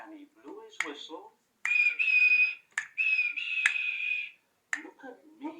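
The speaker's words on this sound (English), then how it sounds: "And he blew his whistle." Steam locomotive whistle from an animated toy-train engine story, two long steady shrill blasts sounding loud and near, with a narrator's voice speaking before and after them.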